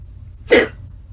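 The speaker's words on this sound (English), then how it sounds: "Are you hiccuping? I got the hiccups." A single short hiccup from a person, a sharp burst heard once, loud and close, with nothing else around it.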